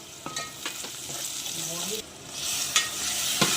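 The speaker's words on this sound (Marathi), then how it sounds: "कांदा मस्त पूर्ण शिजवून घेऊया" Onions fry in a pan for a liver curry, sizzling steadily while a spoon stirs them with scraping strokes and light taps on the metal, close and without speech.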